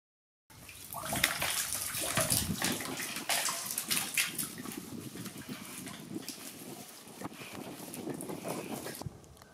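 A Parkside 400 W submersible clear water pump runs fully immersed, giving a continuous turbulent gurgling and splashing of churning water, close and steady throughout.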